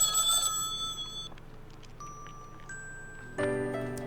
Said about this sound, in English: The phone in the living room is ringing.